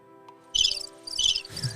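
Crickets chirp in clear repeated bursts, three pulsing trills close and fairly loud over a quiet background hum, with no talk.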